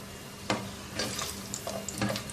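Cashews fry in a shallow layer of oil, about a quarter cup with ten or twelve nuts, giving a soft steady sizzle broken by a few sharp stirring clicks and scrapes near the pan.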